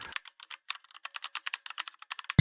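Quick bursts of keystrokes on a computer keyboard as an equation is entered into graphing software, crisp close clicks in an uneven rhythm, finishing with one heavier thump as a key is struck hard.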